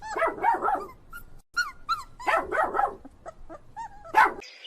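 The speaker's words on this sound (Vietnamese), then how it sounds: "Con chó Babylon." A dog barks in two clustered bursts of three quick barks each, close and loud, broken up by high whimpers and yips, with a short silent gap between bursts.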